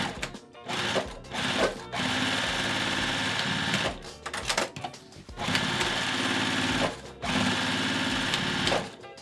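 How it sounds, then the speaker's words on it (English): A sewing machine stitches a quarter-inch seam through canvas for a box bag, running in several long loud bursts with short pauses between them. "I'm going to sew down 1/4 inch seam."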